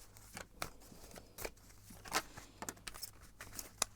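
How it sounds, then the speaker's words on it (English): Tarot cards are shuffled by hand, close and quiet, with a run of irregular crisp snaps, riffles and papery brushing over a low steady hum. "I'm gonna shuffle and see what the cards have to say"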